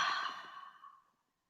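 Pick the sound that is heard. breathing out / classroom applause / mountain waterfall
breathing out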